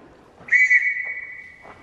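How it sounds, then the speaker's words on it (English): A whistle is blown in a single long, steady, loud blast lasting about a second, with no voices over it. "Blow the whistle."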